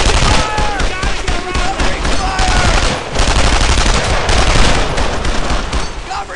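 Loud covering gunfire in the World War II shooter Brothers in Arms: Earned in Blood: sustained machine-gun bursts and overlapping rifle shots rattle densely and close, with brief lulls and shouted voices mixed in.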